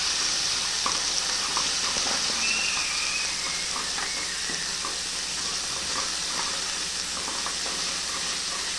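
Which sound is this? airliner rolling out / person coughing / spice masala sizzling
spice masala sizzling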